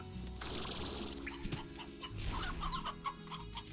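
An elder rooster clucks close by in a farmyard, a few soft clucks and short squawks scattered over a low background hum, with no talking.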